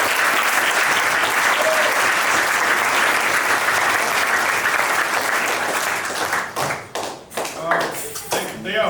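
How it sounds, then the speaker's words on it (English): A crowd at a university athletics media day applauds with dense, steady clapping for several seconds, then the clapping thins out and fades into scattered claps and murmuring voices. "will y'all give them a round of applause?"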